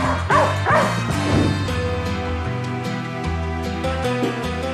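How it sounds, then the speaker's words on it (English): An Australian cattle dog barks several times in quick succession, loud and close, then the barking turns to softer yips and whines over a low background hum. "Australian cattle dog spent the past 7 years barking and barking and barking"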